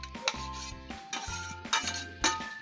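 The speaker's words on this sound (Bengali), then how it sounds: "এই ডিমটা মিশিয়ে দিচ্ছি, একদম পুরো তেল সমেত মিশিয়ে দেবো" Fried egg being stirred with its oil into fenugreek greens in a pan, a few close scraping and clinking strokes of a utensil against the pan, spaced unevenly with no talk.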